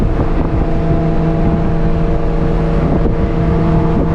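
An Audi S4 with a 430 hp all-wheel-drive setup holds a steady, loud, droning rev at its launch-control RPM, heard from inside the car with a constant engine hum and no talking.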